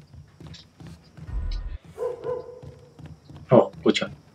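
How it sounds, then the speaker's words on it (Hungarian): A dog barks twice in quick succession near the end, loud and close, in Mafia 3, following a stretch of game ambience and someone talking. "Ó, kutya."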